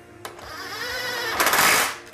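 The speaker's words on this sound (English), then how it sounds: "now we're going to go ahead and tighten up this bolt." A ratchet tightening an 8mm bolt on a 4L60E transmission valve body gives a steady mechanical whir building into a louder, brighter burst of clicking near the end, close and alone.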